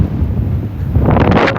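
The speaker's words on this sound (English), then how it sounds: "Don't leave me out in this whipping wind." Strong wind whips across the microphone on a dark, windy night by the water, a steady rushing roar that gusts louder toward the end, with no voices.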